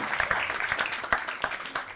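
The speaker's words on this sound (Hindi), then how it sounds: "मैं चाहूंगा जोरदार तालियां बजानी शुरू करिए" Audience at a comedy show and poetry gathering claps and applauds, a moderate patter of hands with uneven bursts over about two seconds.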